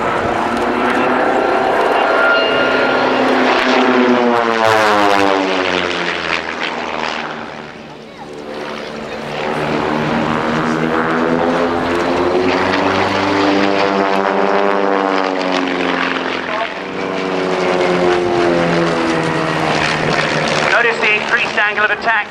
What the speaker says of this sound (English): barrel roll in formation